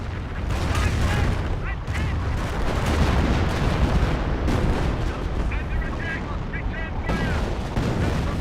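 Artillery barrage striking Sherman tanks in Company of Heroes, a dense run of loud booming impacts and crackling gunfire over several seconds, with a voice talking over the battle.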